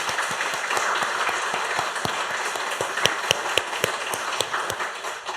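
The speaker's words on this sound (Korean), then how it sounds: "하나님의 은혜에 감사하는 그런 박수를 또 우레와 같이 하나님께 올리겠습니다" A church congregation at a Sunday thanksgiving service applauds together. The clapping is steady, full and rhythmic and fills the room for several seconds, with a few sharper claps near the end.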